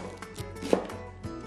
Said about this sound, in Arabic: هلا حنبدأ بتقطيع الليمون، البصل والفلفل